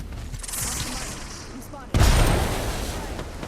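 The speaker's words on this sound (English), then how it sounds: "you can hear there's sniper shots coming in our way as well" Sniper fire incoming in the video game Apex Legends, a sharp heavy crack landing midway through a steady din of battle, with someone talking beforehand.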